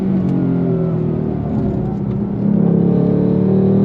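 A 2024 Ford Mustang Dark Horse's engine pulls hard on throttle through twisty road, a loud steady drone that rises in pitch and swells louder partway through, heard from inside the car with no talk.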